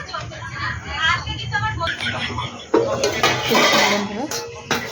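A plate of rice set aside in a kitchen while cooking tandoori chicken, close clinks and clatters of dishes and cutlery mixed with someone talking.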